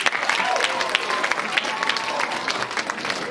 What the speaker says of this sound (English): can I get an applause for Lady Bird?